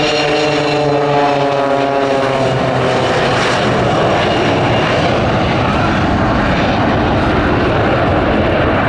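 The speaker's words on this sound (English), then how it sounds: "The 727 you can see is operated by 2XL under the partnership of T2" A Boeing 727 jet airliner makes a low pass at the RAF Cosford air show, a loud, continuous engine roar that stays steady and close for the whole stretch with no voices over it.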